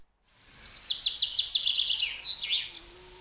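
Birds sing outdoors in a short burst of rapid, high chirping trills, loud and close, with no other sounds.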